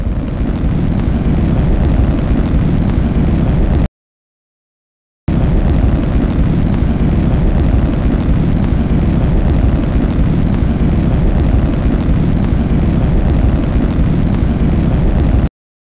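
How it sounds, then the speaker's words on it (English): A rocket first stage roaring through its landing burn, a loud, continuous broadband rumble that cuts out briefly near four seconds, then resumes for about ten more seconds before stopping abruptly. "Stage 1 landing burn."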